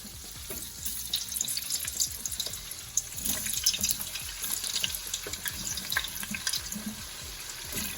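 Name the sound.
fries frying in oil alongside catfish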